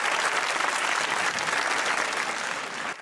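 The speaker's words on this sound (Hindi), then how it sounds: "ताली होनी चाहिए" Studio audience at a comedy talk show applauds loudly and evenly, dense clapping that cuts off abruptly near the end.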